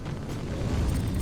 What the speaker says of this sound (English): There it is, explosion for you.